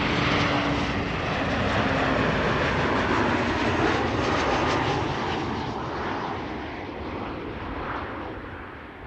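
A narrow-body airliner at Amsterdam Schiphol Airport roars steadily with engine noise, loud and close at first and then easing slightly as it passes.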